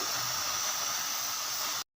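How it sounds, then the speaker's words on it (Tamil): Steam hisses steadily from a pressure cooker as rice cooks on a stovetop, with water also escaping. The broadband hiss holds constant and fairly loud for about two seconds, then cuts off abruptly. "தண்ணி வெளியில் வர்றதோட ஸ்டீம் வருது பார்த்திங்களா"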